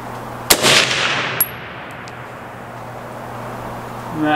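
A 6.5 Grendel deer rifle with a 12.5-inch barrel fires one loud, sharp shot up close, followed by a brief ringing tail and a faint click, then quiet outdoor background.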